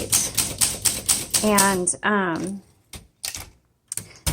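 Keys clack rapidly on a 1962 Olympia SM7 manual typewriter in original blue, close and crisp, with scattered strikes continuing after a short pause and a voice speaking briefly over the typing.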